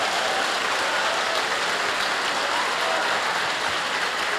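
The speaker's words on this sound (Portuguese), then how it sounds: "Glória a Deus, palmas para Jesus." Church congregation applauding in praise, a steady, dense wash of clapping that fills the whole stretch at even loudness with no voices on top.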